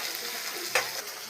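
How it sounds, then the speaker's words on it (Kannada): Food fries in a pan on a gas stove, a steady close sizzle with one brief louder stirring scrape midway, and no one speaking. "ಈ ಥರ ಫ್ರೈ ಮಾಡ್ಕೊತಾ ಇರಿ"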